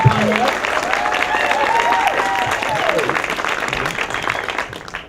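An audience applauds for a series creator at a TV producers' talk event, a dense wash of clapping that holds steady and then tapers off near the end, with a voice speaking over it at the start.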